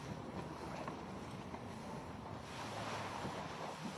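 Strong ocean swell and surf breaking at la Torche in Brittany during a tow-in surfing session, a steady loud roar of waves with wind buffeting the microphone throughout, no voices.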